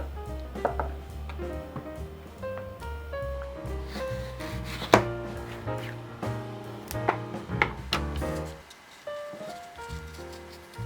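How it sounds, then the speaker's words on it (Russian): A knife cuts peeled apples into pieces about five millimetres thick on a board, giving quiet scattered taps and knocks against a faint musical background. "Режу яблоки кусочками миллиметров по 5."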